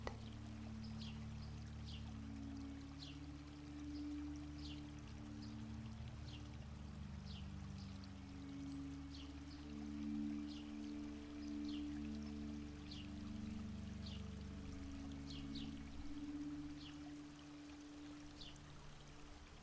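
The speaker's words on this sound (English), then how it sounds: "listening to the sounds of the water, the leaves, the wind" Water flows softly and steadily in a calm outdoor meditation ambience, faint throughout, with light dripping ticks recurring at a regular pace.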